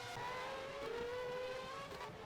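A race car engine in the racing game Race 07 drops down to first gear, its loud, steady engine whine shifting pitch. No other sounds.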